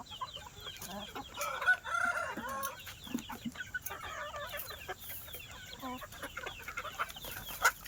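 Many chickens cluck and a rooster crows at a poultry breeder's among breeder chicks and hens, with busy overlapping calls nearby and a few louder outbursts.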